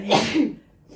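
A single sharp sneeze, close and loud, followed by a faint breath.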